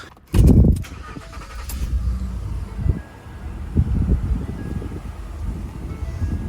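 A steady low whooshing hum of a Ford F-150's newly replaced blower motor fan running after a thump at the start, with faint knocks and rustles over the airflow.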